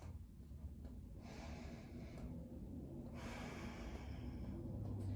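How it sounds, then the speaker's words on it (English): Deep, forceful breaths during a Pilates mat workout, a couple of drawn-out inhales and exhales in steady rhythm, close and fairly quiet, with no talking. "Keep breathing in to fill your lungs and all the air out."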